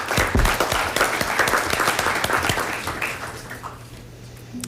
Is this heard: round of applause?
yes